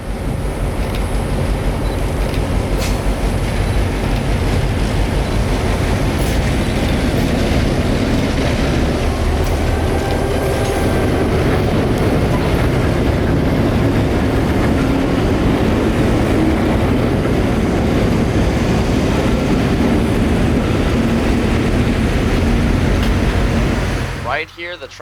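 CF7 locomotive number 204 hauling a train on its first run, a steady, loud diesel rumble mixed with heavy wind buffeting that holds unbroken for about twenty-four seconds before cutting off.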